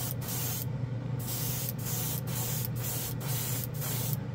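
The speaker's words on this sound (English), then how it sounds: "let's paint a spoon with this gloss black base" A Badger Sotar detail airbrush sprays gloss black paint onto a spoon in a steady, close hiss, broken by brief regular pauses as the trigger is released.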